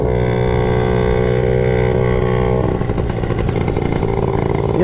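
A motorcycle engine with a new exhaust revs hard and drones loudly, close by, its pitch shifting partway through as the throttle changes.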